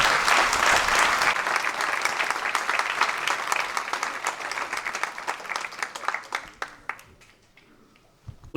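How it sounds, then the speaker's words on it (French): A crowd at a 2024 inauguration in Hélette applauds the project's financial backers. The clapping is loud and sustained at first, then gradually thins to scattered claps before stopping near the end. "on peut applaudir tous les acteurs financiers"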